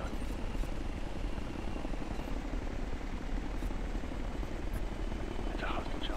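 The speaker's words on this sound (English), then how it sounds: "It's a hostile chopper." Hostile helicopter in the video game Future Soldier, a loud steady rotor thrum and engine roar that fills the whole stretch with dense, unbroken noise.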